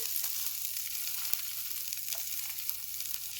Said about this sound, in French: on va mettre à colorer notre petite gambasse bien à plat, comme ceci